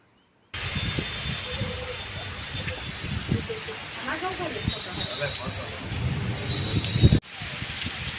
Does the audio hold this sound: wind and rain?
yes